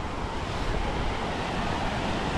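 Ocean surf washes steadily onto a beach, a broad continuous roar of breaking waves mixed with wind, with no voices over it.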